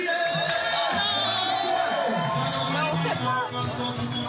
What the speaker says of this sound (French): On applaudit pour la jury.